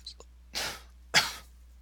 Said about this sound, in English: My goodness, I'm coughing a lot today.